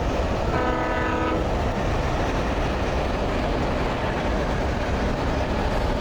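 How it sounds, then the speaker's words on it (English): A train in the video game Alan Wake Remastered rumbles past with a dense, continuous roar and rail clatter, while a horn blast sounds briefly near the start over the steady loud din. "You hear the train?"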